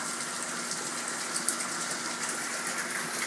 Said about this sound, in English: This guy right here, the siphon, ball valve's kicking in,